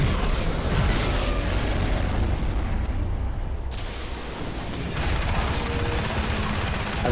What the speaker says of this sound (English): We're gonna just shoot like an idiot.